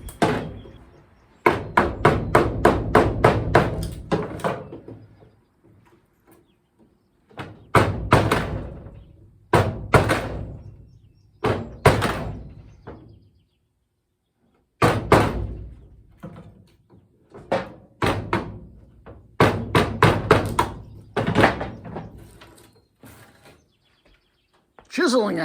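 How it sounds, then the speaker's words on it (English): Sharp wooden chopping blows land in quick rapid bursts, pausing between groups, with clear thuds of a chisel struck into wood, cutting handle holes in a battery box for a 1956 Chevy pickup. "chiseling out the holes for the handles"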